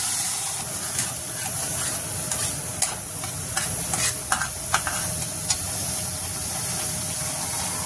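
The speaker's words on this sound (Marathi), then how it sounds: "चांगला हा मसाला भाजून घ्यायचा." Onion-coconut masala paste roasts in a pan with a continuous close sizzle, broken by scattered scraping and stirring knocks from a spoon against the pan.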